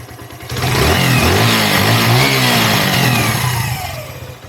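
A Herald motorcycle engine, newly repaired with a refitted throttle and adjusted idle and mixture screw, runs close and loud, revving up and holding a steady mid-pitched roar before easing back down.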